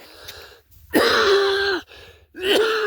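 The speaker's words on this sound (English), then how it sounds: "That's why I'm coughing." Two harsh, raspy coughs or throat clears, each lasting nearly a second, separated by a short pause, close and loud.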